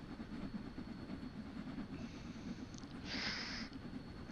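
Simulated train running on the Severn Valley Railway in Train Sim World 3, a steady rumbling roll with a high hiss rising briefly, heard close and moderately loud without talk.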